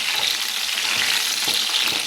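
Eggplant pieces frying in hot oil in a home kitchen, a steady dense sizzle with faint stirring scrapes and small pops throughout, loud and close with no talking.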